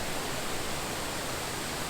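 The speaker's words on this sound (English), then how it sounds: "Okay, I think I found the waterfall." Waterfall at Sioux Falls, a steady broadband roar of falling water filling the scene, close and continuous, with no voices over it.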